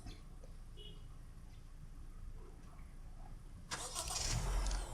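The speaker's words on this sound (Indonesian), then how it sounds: "Sebelum kita mulai, kita hidupin dulu mesinnya pakai remote." A Honda City Hatchback RS started by remote: a quiet outdoor background, then after a few seconds a sudden engine start that settles into a steady idle, close by.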